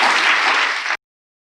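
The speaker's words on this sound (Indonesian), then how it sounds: "tepuk tangan buat kita." A church congregation bursts into loud, dense applause that holds steady for about a second and then cuts off abruptly into silence.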